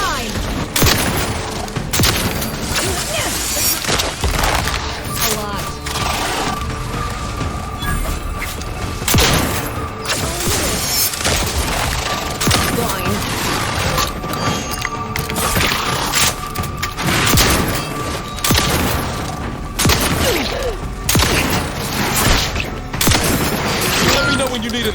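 A wrist-mounted weapon firing in the video game Outer Worlds 2, a dense run of rapid bursts and mechanical clatter continuing throughout amid combat noise, with character voices talking over it.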